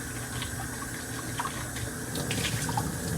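Water pours and splashes out of a pitcher used for collecting brine shrimp, a steady close rush with small drips and gurgles, no talking.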